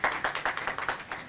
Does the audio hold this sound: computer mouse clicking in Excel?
no